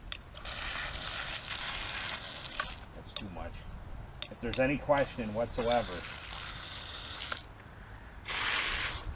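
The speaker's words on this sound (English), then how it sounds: "splash water on here like we're doing, as long as you have a waterproof, water resistant car" Water splashes in short sprayed bursts onto a water-resistant RC car, soft hissing gushes that come and go while someone talks over them.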